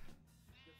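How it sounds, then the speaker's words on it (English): Sheep bleat in the Minecraft video game, a brief quavering call under low background sound, heard alone without talking. "Oh, there's some sheep and there's some animals here."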